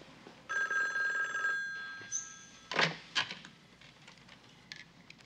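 An old-style telephone bell rings in a short burst, followed by a few clunks and knocks as the handset is handled, in a quiet room.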